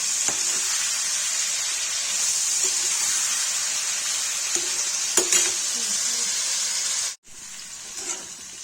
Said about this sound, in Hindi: नमक डाल के फ्राई हो जाएगा, तो इसको निकाल के कलेजी बनाएंगे।